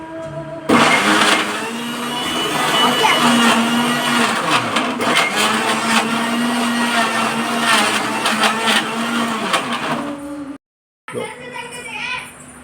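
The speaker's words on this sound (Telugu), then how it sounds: "కొంచెం పాలు, చక్కెర పోసినాక మిక్సర్ దగ్గర పెట్టి ఆన్ చేయండి." A mixer grinder blends a mango milkshake with milk and sugar in its jar, a loud, steady motor whirr lasting about ten seconds before cutting off, then a short quieter restart.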